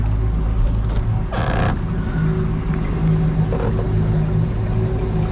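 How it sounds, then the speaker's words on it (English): A small outboard kicker motor on a used 220 Ocean Pro boat runs with a steady, loud low drone that carries through the whole stretch, with brief clanks and a short hiss over it and no voices. "we're going to see why that little kicker motor ain't starting"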